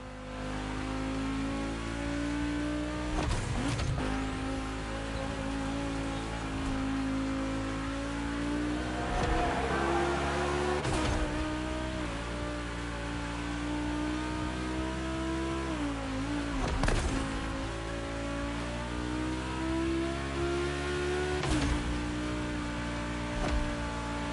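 Volkswagen race cars, including the Hoonicorn, lapping a track at a motor festival, engines revving and droning steadily with rising and falling pitch as they accelerate, loud and continuous throughout.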